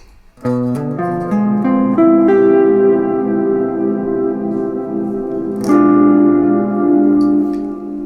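Single notes climb steadily through a harmonic major mode scale on a plucked, ringing instrument, then a final note sustains and fades, with no talking.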